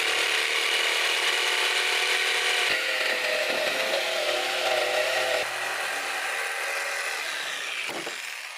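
A marked wooden circle being cut out with a power tool, a steady, loud grinding and rasping that runs nearly unbroken for several seconds, close by, with no voices.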